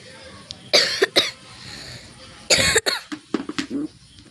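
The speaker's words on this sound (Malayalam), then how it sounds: "എനിക്ക് നല്ല ചുമയാണ്." A woman wearing a jersey shawl coughs in several harsh bursts, a double cough early, a long heavy one in the middle and a ragged run of smaller coughs at the end, close and loud with quiet gaps between.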